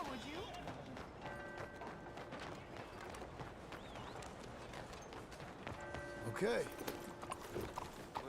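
In Red Dead Redemption 2, a horse's hooves clip-clop in a steady, moderately quiet walking rhythm. Brief speech and a few game sound effects come in over the hoofbeats.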